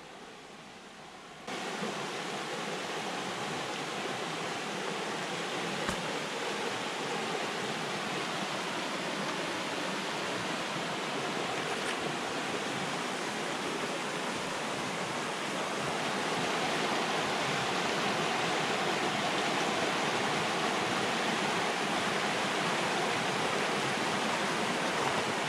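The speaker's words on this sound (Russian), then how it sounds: "Ну а сейчас пойдемте прогуляемся вдоль нашего ручья." A flowing stream rushes in a continuous, dense wash of water noise, steady and fairly loud at close range, with no voices and a slight swell partway through.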